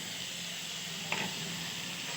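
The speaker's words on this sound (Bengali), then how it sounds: "এবার টমেটো আর চিলি সসটা আমি একসাথে করে নিয়েছি সেটা এবার দিয়ে দেবো" Tomato and chili sauce goes into a hot pan for soya chili, with a steady, moderate sizzle and one brief splashy burst midway.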